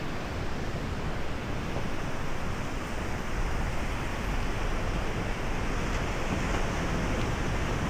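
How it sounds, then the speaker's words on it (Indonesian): Ocean surf breaks on the beach at Pantai Watu Bolong in Yogyakarta, a dense, constant roar of big waves with wind buffeting the microphone throughout and no voices. "Baru besar untuk ombaknya, jadi kalian harus hati-hati"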